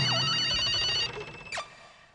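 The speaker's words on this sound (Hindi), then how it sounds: "आपके मोबाइल की बेल बज रही है।" A mobile phone ringtone trills loudly with a repeating warbling electronic melody, then cuts off abruptly, followed by a brief swooping tone and quieter background noise.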